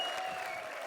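A studio audience on a comedy show gives a quick burst of dense applause, with a faint sustained musical tone underneath.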